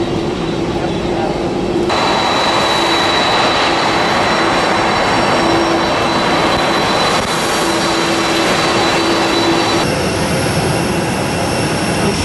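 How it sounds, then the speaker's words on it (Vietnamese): Air Force One, the US presidential jet, lands at Noi Bai airport and taxis to a stop. A loud, steady jet engine roar with a constant whine holds throughout, close and dominant, with no break in the noise. "Chúng ta có thể thấy chiếc máy bay Air Force One của Tổng thống Hoa Kỳ Barack Obama vừa mới hạ xuống và tới điểm dừng."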